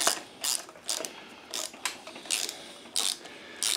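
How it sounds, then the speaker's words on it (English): A thread tap being turned by hand in an engine block hole to start threads, producing a series of short, close metallic ratcheting and scraping bursts at a fairly regular rhythm of roughly two per second. "I just tap it down until I get some good threads started"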